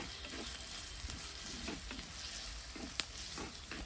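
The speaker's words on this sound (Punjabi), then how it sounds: "ਪਿਆਜ਼ ਨੂੰ 4-5 ਮਿੰਟ ਤੱਕ ਆਪਾਂ ਭੁੰਨਣਾ ਆ" Onions fry softly in a pan for a dahi tadka, giving a low, even sizzle with a few faint scraping stirs and one small tap, quiet and close.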